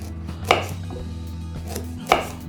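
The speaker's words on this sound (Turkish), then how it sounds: "Şimdi ayvalarımızı şu şekilde doğruyoruz." Two sharp knife chops strike a cutting board as quinces are cut, spaced more than a second apart, close and distinct, with no talking.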